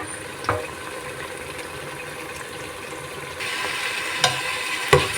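Ripe papaya halwa cooking in ghee in a pot, giving a steady soft sizzle with a few stirring clinks and scrapes, and no talk.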